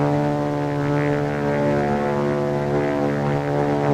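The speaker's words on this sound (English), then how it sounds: "It's a plane, all right." A propeller airplane drones steadily overhead with a deep, harmonic engine hum that holds at a constant level throughout, with no voices.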